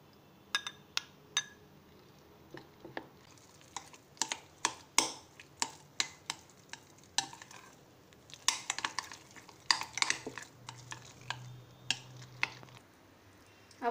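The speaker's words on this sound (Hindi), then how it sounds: "अब जो मैंने आधी कटोरी दही ली थी वो हम इसमें मिक्स कर लेंगे" Curd being stirred into kadhi pakora batter in a bowl, soft irregular clinks and scrapes of a spoon against the bowl, close and quiet, without talk.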